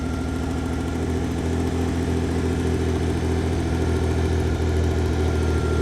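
A Ford Ranger truck engine idles loudly and steadily, a rough continuous rumble with a throbbing vibration close by.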